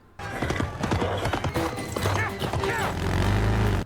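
Horse hooves clip-clop in a movie scene where a rider gallops through a subway tunnel ahead of an oncoming train, with rapid hoofbeats mixed with loud crashing effects and music.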